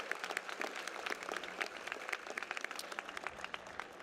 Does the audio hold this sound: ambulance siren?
no